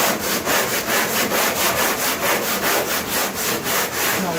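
Sanding on a panga boat hull to remove bubbles and flaws, a close, loud, rhythmic rasp of back-and-forth strokes at roughly two per second, steady and alone.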